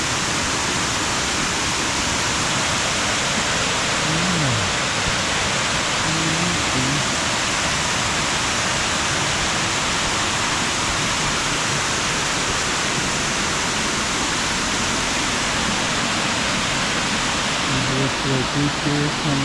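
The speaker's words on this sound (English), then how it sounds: "we're at a waterfall now. It's a nice little waterfall." A small waterfall in Mexico pours steadily in a broad even rush of water, close and constant throughout, with faint bird calls and no clear voices.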